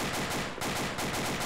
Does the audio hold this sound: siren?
no